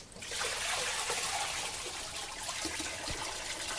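Coolant gushes and trickles out of a car radiator through the pulled-off bottom hose, a continuous splashing stream starting abruptly and running steadily with a few small drips and knocks near the end.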